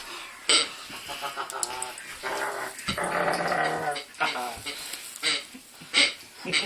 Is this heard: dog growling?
yes